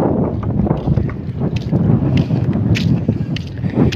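Gusty wind buffeting the microphone outdoors on a walk in Carigara: an uneven low rumble with scattered rustles and soft clicks.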